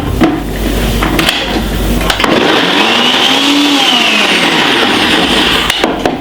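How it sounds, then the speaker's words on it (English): Electric blender running at full power, blending red label wine for a Jamaican Christmas black rum cake: a loud, steady motor whir with a brief pitch dip, close and continuous with no talking. "I'm just gonna be blending this about 2 seconds."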